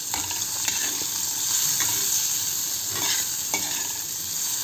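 Onion and garlic fry in a small amount of oil for a fish-head mung dal, giving a steady, close hiss with occasional scraping stirs.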